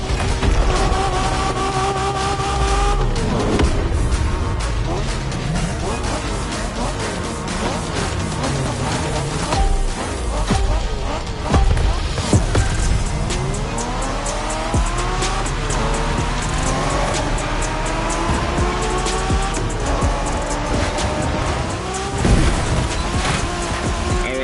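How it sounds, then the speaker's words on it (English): A street racing car in Crew Motorfest on PS5 roars loudly throughout, its engine climbing and falling through repeated gear shifts, with tire squeals mixed into the steady race noise. "we're going for some proper Japanese street racing."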